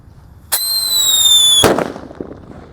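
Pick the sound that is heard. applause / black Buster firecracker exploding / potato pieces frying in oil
black Buster firecracker exploding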